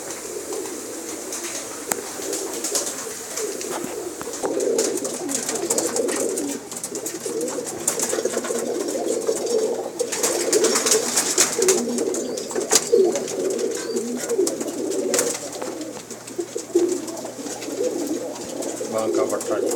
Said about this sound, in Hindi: बड़े उस्तादों के कबूतर घर के।